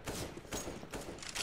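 Counter-Strike gunfire in a quiet competitive match: three or four short, faint shots with soft thuds, evenly spaced over a second and a half, no talk over them.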